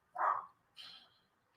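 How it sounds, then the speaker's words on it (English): Dogs bark in two short bursts, a loud full bark followed by a higher, thinner yip, fairly close by with quiet in between. "Uh-oh, there goes the dogs."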